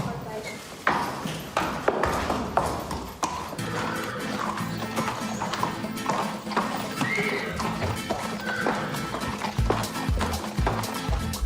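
Horse hooves clip-clop steadily at a walking pace, with occasional neighs, while people talk over the sound throughout.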